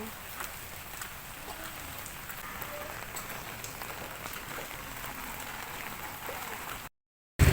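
Steady rain falls on surfaces and an umbrella during a walk to work, a dense continuous patter heard up close, then a sudden cutoff to silence near the end.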